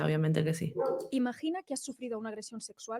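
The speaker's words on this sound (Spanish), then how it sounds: "Ese es mi perro, el que está ladrando ahí afuera" A pet dog barks outside, faint and intermittent beneath continuous close talking.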